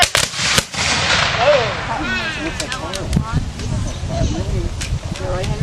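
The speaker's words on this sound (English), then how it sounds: "What they're doing right now is they're actually firing by company." Volley fire from Civil War rifled muskets fired by company at an infantry demonstration, a sharp opening crack followed by scattered shots and crowd chatter with whistling tones over a continuous outdoor wash.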